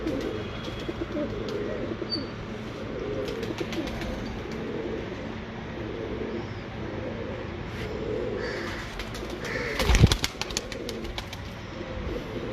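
Breeder pigeons coo in a steady low murmur from several birds close by, with a brief sharp knock or flutter near the end.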